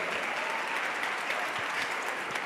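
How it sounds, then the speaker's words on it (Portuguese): Steady, dense applause from a church congregation, a continuous wash of many hands clapping together at an even level throughout. "pode aplaudir a São José"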